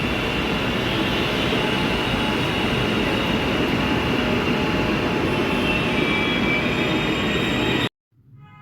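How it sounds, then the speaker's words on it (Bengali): A Kolkata Metro train pulls into a station with a steady, loud rumble of wheels and carriages that runs for about eight seconds, then cuts off abruptly to near quiet. "দশ মিনিট বাদ বাদ একটার পর একটা মেট্রো এসেই যাচ্ছে।"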